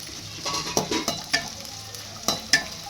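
Edible gum frying in hot ghee, a close crackling sizzle broken by several sharp scraping and clinking strokes of a stirring utensil against the pan, with no voices.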